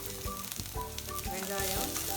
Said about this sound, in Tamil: கடுகு, கடலைப்பருப்பெல்லாம் நல்லா வறுத்துச்சு.